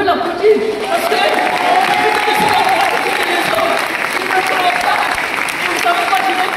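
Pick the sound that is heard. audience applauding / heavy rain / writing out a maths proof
audience applauding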